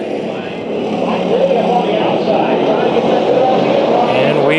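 Race cars circling a track, their engines a steady, distant-sounding roar that builds slightly, with a public-address commentator talking over the noise.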